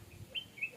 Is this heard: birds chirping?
yes